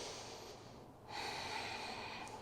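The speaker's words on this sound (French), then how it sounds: "Encore une longue respiration." Long, deep breath drawn during a flowing yoga balance session, a soft airy hiss that dips briefly and then swells steadily, close and alone with no talk.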